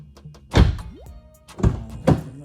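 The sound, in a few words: door being closed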